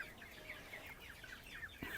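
Young chickens and broilers in a poultry shed cluck and chirp in a scattered series of soft calls, fairly close and quiet, ending with a slightly louder squawk.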